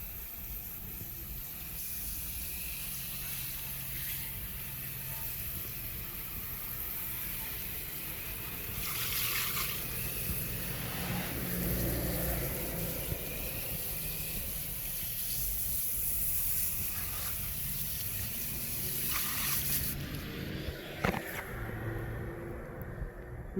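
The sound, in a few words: water spray rinsing ceramic coated car wheel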